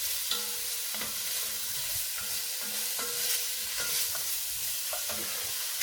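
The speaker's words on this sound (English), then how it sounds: "I mean, you don't have to stir this in too much" Diced ham being stirred into a creamy cabbage soup in a pot, with soft, repeated scraping strokes over a steady background hiss.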